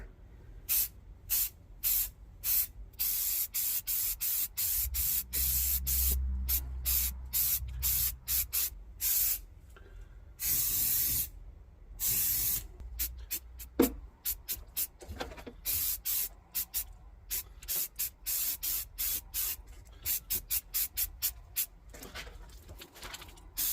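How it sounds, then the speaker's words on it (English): Repeated bursts of aerosol self-etching primer hiss onto bare metal of a Silverado floor pan, short and longer blasts with brief pauses, close and fairly loud. "Got some self-etching primer. Going to go ahead and spray that on all the bare metal."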